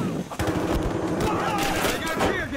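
Gunfire in Battlefield Hardline rattles in rapid, loud bursts of shots, with a player's voice talking over the shooting.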